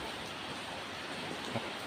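Rain falls steadily around a roadside pavilion in rural Thailand, a continuous, even hiss with no clear drops standing out and no voices.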